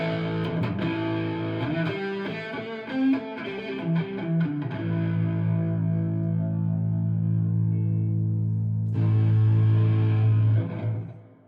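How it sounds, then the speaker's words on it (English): An Ibanez JEM 7V electric guitar plays through heavy distortion, with choppy, palm-muted riffing giving way to long sustained chords that ring loud and thick, alone with no talk. "Into the heavy distortion, because that's what I like to play."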